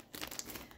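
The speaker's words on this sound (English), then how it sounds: "So I think we're just gonna have to rip into this bag." A brief, faint crinkling rip of thin plastic, a quick tearing rustle lasting under a second.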